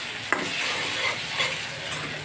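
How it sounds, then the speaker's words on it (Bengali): Dried lotiya fish with sweet potato leaves being stir-fried in a pan, a steady close sizzle with a brief spatula scrape at the start. "তো নেড়ে চেড়ে একটু ভাজা ভাজা করে ভুনা ভুনা করে নিলাম"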